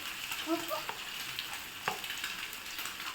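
Fish frying in hot oil, part of a large four-kilogram batch, gives a soft continuous sizzle with light crackle and a few brief clinks or stirring taps, with a faint voice in the background.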